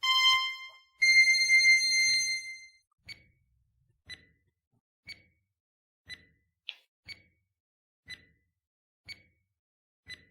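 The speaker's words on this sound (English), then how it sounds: "We have 20 seconds and timer starts now." A timer ticks once per second in a steady series of sharp, clean clicks, close and isolated, after a brief electronic chime at the start of a countdown.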